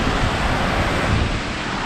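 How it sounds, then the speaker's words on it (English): A waterfall roars over someone standing in it, a loud, dense, unbroken rush of falling water with buffeting noise against the microphone and no other sound audible. "you probably can't hear me because I'm standing in a waterfall"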